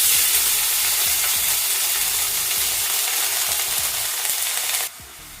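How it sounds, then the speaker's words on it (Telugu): Chopped onion dropped into chillies frying in hot oil gives a loud, dense, continuous sizzle with faint scraping underneath, cutting off abruptly near the end, with no voices. "ఇందులో ఒక పెద్ద ఉల్లిపాయ చిన్నగా ముక్కలు కట్ చేసుకొని వేసుకుంటున్నాను."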